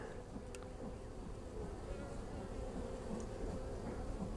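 Honey bees buzz softly around hive frames during a beekeeping check for swarm cells, a low, steady hum with faint crawling and handling noises close by.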